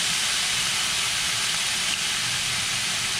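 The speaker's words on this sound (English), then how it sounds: "you're gonna just deglaze the pan" Hot pan being deglazed while making jerk jackfruit tacos, a loud, steady steam hiss that holds constant without pause throughout.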